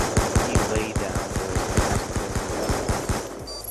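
Rapid automatic gunfire from a search-and-destroy match in a 2v2 amateur tournament, a steady string of sharp close bursts running almost unbroken for several seconds.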